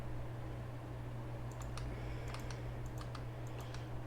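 Light, rapid mouse clicks in short irregular bursts while bridging in Minecraft, faint and close over a steady low electrical hum, with no talking.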